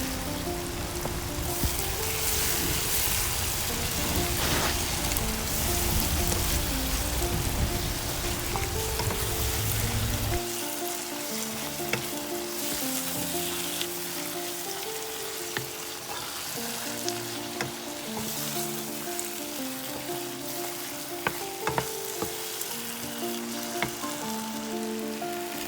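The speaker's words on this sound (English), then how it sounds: "I'm adding, the next step is to add the tomato paste and then mix it really well." Tomato paste stirred into a pan of frying macaroni pasta sauce, a steady broadband sizzle with scraping stirs, louder at first and easing to a softer crackle with occasional clicks, no voices.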